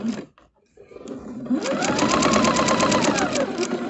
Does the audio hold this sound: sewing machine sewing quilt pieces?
yes